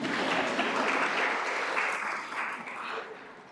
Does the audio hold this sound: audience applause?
yes